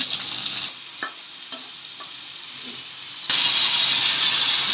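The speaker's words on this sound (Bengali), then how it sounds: "এখন আমি আলুগুলাও একই সাথে ভেজে নিচ্ছি মাছটা প্রায় ভাজা হয়ে গেছে" Potatoes and fish fry together in hot oil with a steady, close sizzle that swells much louder for the last second and a half, with a few faint knocks.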